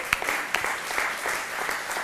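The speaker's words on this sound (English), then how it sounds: "an applause." Audience applause at a startup demo day event in Reggio Emilia, steady dense clapping from a crowd with a few sharper claps standing out, continuous and moderately loud for the whole stretch.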